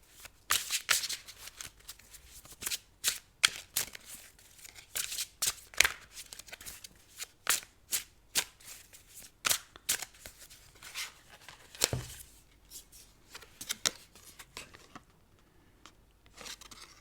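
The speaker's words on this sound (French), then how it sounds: "Je vais retirer d'autres cartes." Tarot-style cards shuffled and drawn by hand for a card reading, a long series of quick papery riffles and flicks, close and crisp, with short pauses between bursts.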